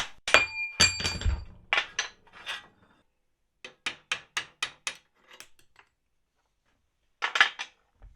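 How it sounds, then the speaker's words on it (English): A hammer strikes a steel bar being driven out of a Triumph TR7 during restoration, first in a heavy cluster of clanks, then a quicker run of lighter metallic taps, and a final short burst, with silent gaps between. "A little at a time I hammered the bar through whatever it was binding against"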